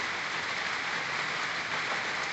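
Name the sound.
heavy rain in Kathmandu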